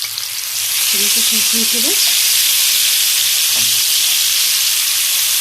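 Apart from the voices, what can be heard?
spinach, garlic and chili mixture frying in a pan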